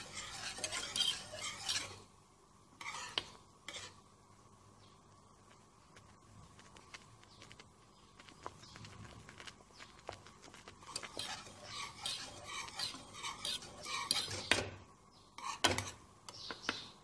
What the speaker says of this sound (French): Là, je préfère un fouet pour qu'il n'y ait pas de grumeaux.